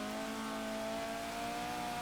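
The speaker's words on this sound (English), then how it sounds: "This car is sliding all over the place." Car in a driving video game sliding around, with a steady sustained engine drone and tonal whine throughout, loud and continuous with no voices.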